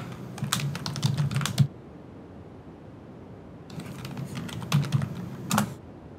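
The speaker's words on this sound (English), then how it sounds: "and we type," Two short bursts of rapid keystrokes on a computer keyboard, close and crisp, separated by a quiet pause with a low background hum.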